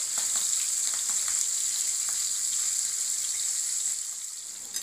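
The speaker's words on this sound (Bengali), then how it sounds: "এবার আমি মাছগুলো উলটিয়ে দিচ্ছি, দিয়ে আমি এবারে একটু লো ফ্লেমে করে দেবো, দিয়ে আস্তে আস্তে মাছগুলো ভেজে নেবো।" Pieces of katla fish fry gently on a low flame for a kalia, giving a continuous, even close-up sizzle with faint crackles that eases slightly toward the end, and no voices.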